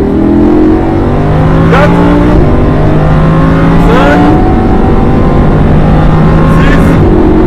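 A 610 hp Lamborghini sports car accelerates hard on a race track, its engine note rising through the gears in repeated climbs with brief shift breaks, loud and continuous from onboard.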